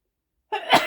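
A single sharp human sneeze bursts out after a moment of silence, close and loud.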